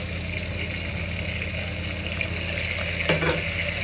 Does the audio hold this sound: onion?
yes